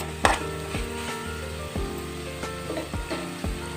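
Food sizzles steadily in a pan while tomato rice is cooked, a continuous frying hiss broken by a few sharp knocks and scrapes of stirring, close and moderately loud.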